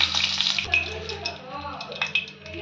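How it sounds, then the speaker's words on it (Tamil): Garam masala sizzles in hot oil while being tempered for a soya kothu curry, a steady close crackle and hiss with faint clinks and a voice in the background. "கரம் மசாலா இப்போ நம்ம தாளிச்சு விட்டுடலாம் நல்லா காயட்டும்"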